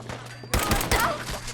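Gunfire in Fallout 4, a loud close shot followed by a quick second burst with thudding tails over busy game combat noise.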